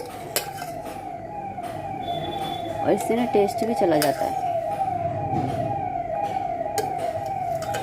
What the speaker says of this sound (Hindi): ये एम्बुलेंस की आवाज़ है।